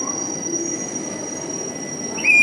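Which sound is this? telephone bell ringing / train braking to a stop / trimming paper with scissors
train braking to a stop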